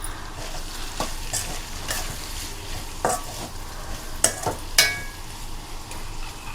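A spoon works chili powder through bitter gourd curry in a hot pan, with continuous stirring scrapes over a low sizzle and a few sharp clinks near the end.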